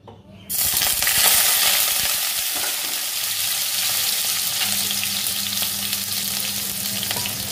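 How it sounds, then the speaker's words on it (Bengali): Potatoes hit about a teaspoon and a half of hot oil in a wok, and a loud, dense sizzle bursts in after a brief quiet moment, then holds steady and crackling throughout with no talk. "আলুগুলোকে লাল লাল করে ভেজে তুলব।"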